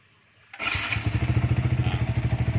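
A Yamaha Vixion motorcycle cranks and then catches, settling into a close, steady, rapidly pulsing idle.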